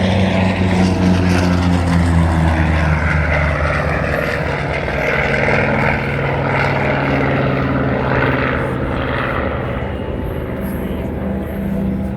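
A Vought F4U Corsair fighter flies at the Wings Over Illawarra 2021 air show, its loud propeller engine drone holding steady and close throughout the clip.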